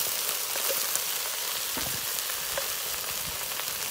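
Impala neck meat browns in a potjie over a wood fire, giving a steady dense sizzle with scattered crackles and pops, close and even throughout, with no talk.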